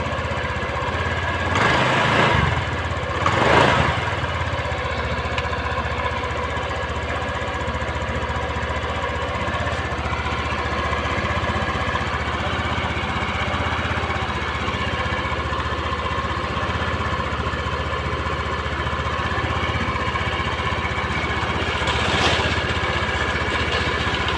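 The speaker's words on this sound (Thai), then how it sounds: "ติดเครื่องยนต์นะครับ" A Honda Click 110i scooter engine runs steadily close by after a rebuild with new piston rings and valves, a rough, continuous mechanical drone with a couple of louder bursts near the start.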